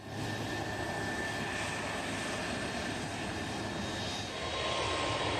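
Engines of a large KC-10 tanker aircraft, a steady, dense roar with a thin tonal whine on top, holding nearly constant throughout, with no voices.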